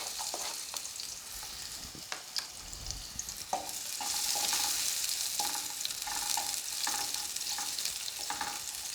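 Onions sautéing in olive oil in a medium pot over high heat: a steady, fairly quiet hiss of frying that swells partway through, dotted with light clicks and taps of stirring.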